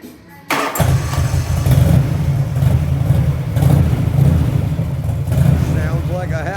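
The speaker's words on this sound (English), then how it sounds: "Sounds like a happy motorcycle to me." A 1985 Harley-Davidson FLHT with an Evolution engine cranks and fires after a brief quiet moment, then settles into a loud, steady, close-up running rumble with slight throttle variations throughout.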